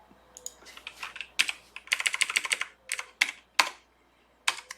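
Typing on a computer keyboard, close and crisp, with irregular clusters of quick keystrokes separated by short pauses, alone in a quiet room.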